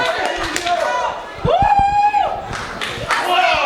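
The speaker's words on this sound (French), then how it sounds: "La foule explose." A wrestling crowd at a live JCW show erupts in cheers and clapping, loud and broadband, with a long rising whoop or whistle cutting through in the middle and a commentator's voice heard over the roar.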